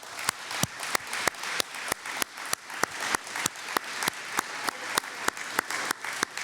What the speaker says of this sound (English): let's all give Tony a round of applause while all he's done.